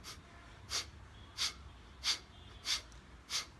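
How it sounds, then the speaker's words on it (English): Bellows breathing exercise: five sharp, forceful exhales through the nose, evenly spaced about every 0.65 seconds, close and fairly quiet, each a short breathy hiss with no talking. "This is called the bellows breathing exercise."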